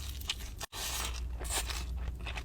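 Bites into crunchy hot chicken tenders give loud, close crackling crunches, with a brief silent gap before the chewing resumes in bursts.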